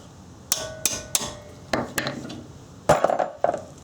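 Sharp metallic hammer taps on the fasteners holding a rusted brake caliper, about seven distinct strikes in uneven rhythm, close and clear with brief ringing after each blow.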